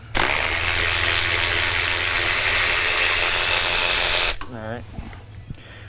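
A ratchet wrench loosens 10 mm bolts on a Cummins engine near the valve cover, giving a loud, fast, continuous clicking rattle for about four seconds before it stops and someone speaks briefly.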